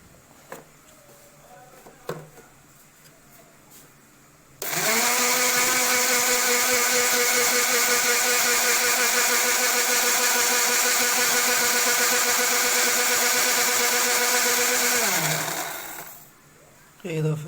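An electric grinder whirs steadily at high speed for about eleven seconds, grinding garlic into powder. It starts abruptly, holds a loud, even drone, and winds down, with quiet handling noises before and after.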